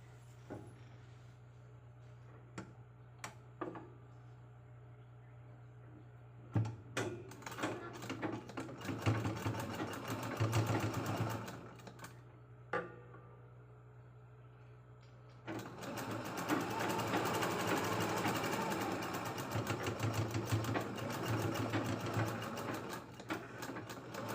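A sewing machine stitches a strap onto a cloth bag made from leftover blouse fabric, running in two bursts: a short uneven run of rapid stitching, a pause, then a longer steady stretch, all over a constant low hum.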